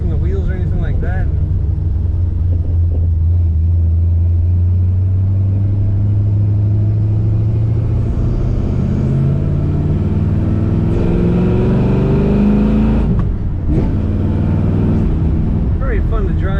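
A 1970 Chevrolet Nova two-door sedan's engine hums steadily while driving, a constant low rumble with a slowly rising pitch as it accelerates, loud and continuous throughout.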